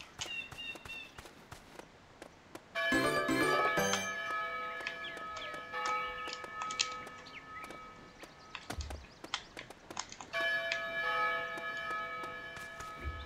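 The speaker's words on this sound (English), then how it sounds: "That is the Bell of Happiness." A bright, resonant bell rings in the video game Go Vacation, struck in a few clustered peals with long ringing tones, mixed with footsteps and light game effects between strikes.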